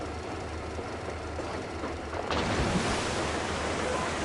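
A rail car's engines rumble in a video game, a steady low mechanical drone that swells louder partway through.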